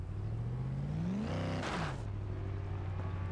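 Mercedes C63 AMG with a 6.3-litre engine in the racing game Forza Horizon 2, revving up sharply to a loud peak around the middle, then dropping back to a steady idle drone.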